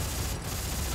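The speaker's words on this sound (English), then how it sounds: "Oh yeah, machine gun, baby." Machine gun fire in the video game Dead Space 3 comes as a brief, loud, continuous rattling burst, with rapid shots blurring into one dense stream.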